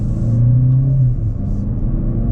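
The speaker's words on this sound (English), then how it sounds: "we're pulling out of the dealership now in the Terrain AT4 all-wheel drive" A 2026 GMC Terrain AT4 all-wheel-drive SUV pulls out of a dealership, its engine giving a steady, close low rumble and hum that swells briefly, with no one talking.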